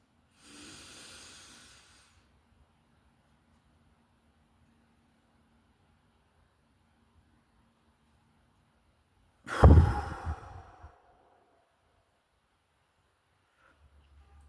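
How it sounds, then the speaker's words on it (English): Slow breathing exercise: a soft breathy inhale, a long silent hold, then a louder rushing exhale, close and alone in a quiet room. "You have to inhale for 5 to 6 seconds, hold your breath for another 7 seconds,"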